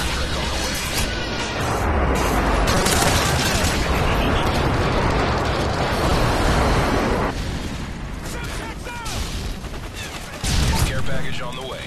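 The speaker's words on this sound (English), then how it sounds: "Delta Airstrike on the way." Video game airstrike with rapid gunfire and rolling explosions, a loud dense barrage of shots and blasts that continues throughout, with a brief lull before another burst near the end.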